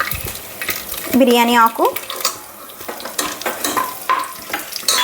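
Shahjeera and bay leaf hit hot oil in a pan, a loud sizzle and fry with stirring and clinks of a utensil, while a person speaks over it.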